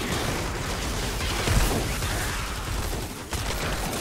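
Dense, continuous bursts of gunfire in Fortnite Save the World fill the clip, with a brief louder pop near the middle and a short dip before it resumes.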